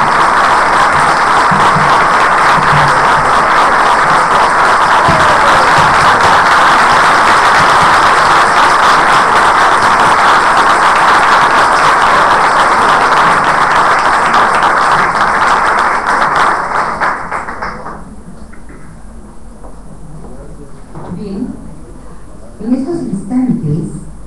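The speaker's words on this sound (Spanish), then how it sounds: "solicito a ustedes un aplauso cariñoso para el doctor" Audience applause at an homage ceremony for a doctor, a dense sustained wash of many hands clapping for about seventeen seconds before fading out to quiet room murmur.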